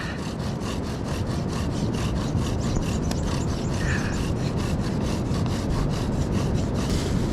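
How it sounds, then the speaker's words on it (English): A bow drill on a beach: rhythmic back-and-forth rubbing of wood on wood, fast and steady strokes repeating throughout, close and continuous. "welcome to the reality of the bow drill"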